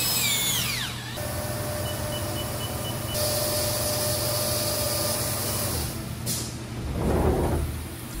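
A face mill cutting across a workpiece clamped in a vise, a steady whirring cut with a high squeal at the start and a brief clatter near the end, heard close and alone.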